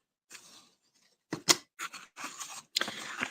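Scissors snip through paper trim for a handmade holiday winter-scene card, several short crisp cuts in bursts, close and fairly quiet with no talking.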